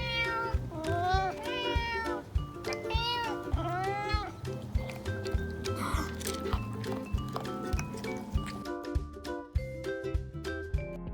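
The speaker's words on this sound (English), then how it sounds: "Yep, and that's my cat. He's a chunker." A chunky domestic cat meows repeatedly at close range, with several drawn-out, rising and falling cries early on, followed by shorter calls and scattered thumps and clicks.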